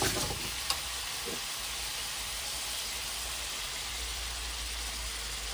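Noodles dressed with chili oil sizzle steadily in a pan, a broad continuous hiss with a few faint stirring clinks early on and no talking.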